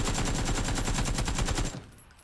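AK-47 fire in the video game PUBG, a loud, rapid, evenly spaced automatic burst of about twenty shots that stops abruptly, with no talking.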